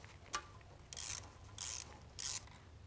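A ratchet backs off bolts on a car transmission's converter housing and oil pan, a short click followed by three distinct ratcheting bursts at a steady pace, close by.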